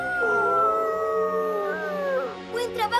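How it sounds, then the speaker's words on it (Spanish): A wolf howls in a cartoon canyon, a long sustained wavering call close and loud, sliding in pitch and ending with a few short yips and yelps. "¡Eso suena como otro lobo!"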